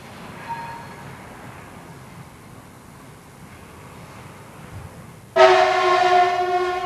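A train on the old Peenemünde works railway sounds its horn suddenly and loudly after several seconds of quiet rumbling, the sustained tonal blast holding to the end.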